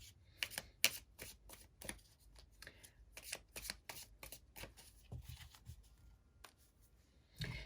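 Tarot cards being shuffled by hand: a run of crisp, close riffling and snapping bursts in an uneven rhythm, loud against a quiet room with no talking.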